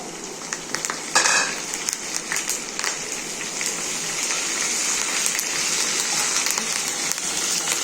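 Crushed garlic sizzles in hot oil in a pan as it is stirred, a steady crackling hiss with a brief scraping clatter near the start, close and fairly loud, with no talking.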